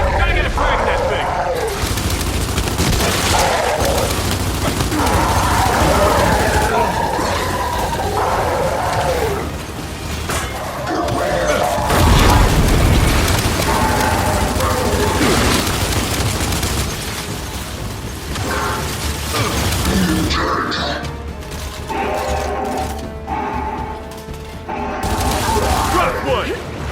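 Gears 5 combat with gunfire and a frag grenade blast, loud dense bursts and booms layered over shouted talk throughout, with a heavy impact near the middle.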